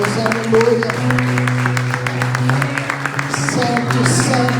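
A church congregation claps steadily in rhythm during worship, brisk regular hand claps under a sustained organ or keyboard chord and a voice singing or praising over the top.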